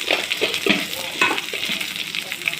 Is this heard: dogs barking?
no